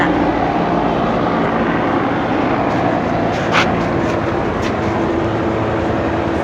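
A loud military aircraft roars overhead near the coast at Oceanside, a dense, steady rumbling drone that fills the whole stretch without letup.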